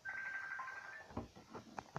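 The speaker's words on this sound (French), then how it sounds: "Désolé pour le bruit là du téléphone." Telephone noise: a steady electronic tone followed by a few short beeps like dialing, faint and alone.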